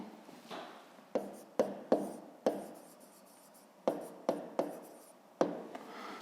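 A pen writing an answer to a fifth-grade maths problem: close, quiet scratching strokes with sharp taps of the pen against paper, irregular and spaced over several seconds, with no voice.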